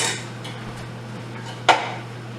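Metal snap lids for home canning being counted out in a kitchen, with faint light handling noises and one sharp metallic clink near the end, close and otherwise quiet.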